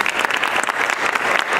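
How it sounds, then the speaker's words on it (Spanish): A convention and expo audience breaks into a brief, loud burst of dense clapping up close. "el señor Manuel Herrera, para quien pedimos un fuerte aplauso,"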